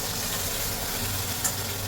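Mushrooms frying in oil for rye soup, a soft, even sizzle and crackle heard close up for under two seconds, with no voices.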